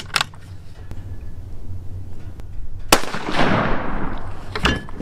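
Rifle shots fired at a range while a newly mounted scope is sighted in, heard as a few sharp distant-sounding cracks over steady outdoor background noise.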